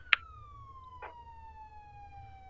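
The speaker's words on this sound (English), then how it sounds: "Where's the ambulance going?" An ambulance siren in the Roblox game ER:LC gives a falling electronic tone with two short sharp chirps, the first loud and the second softer, over a quiet low hum.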